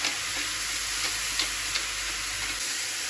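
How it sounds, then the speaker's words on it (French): Courgettes sauté in a cooking pot for ratatouille, giving a steady, even sizzling hiss with faint crackles, close and continuous without any talk. "je vais faire revenir un par un mes légumes. Donc d'abord toutes les courgettes."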